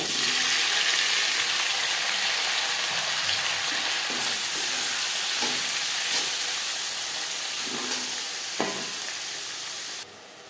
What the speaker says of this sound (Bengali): মাছ ভেজে নেওয়া তেলে দিয়ে দেবো পেঁয়াজ কুচি টমেটো